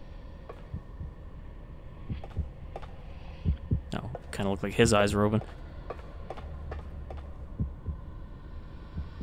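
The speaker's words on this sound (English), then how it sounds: "he has a heartbeat when you walk over here" Faint, steady heartbeat thumps in the game The Consequence (TEW), pulsing evenly in the background while someone talks over part of it.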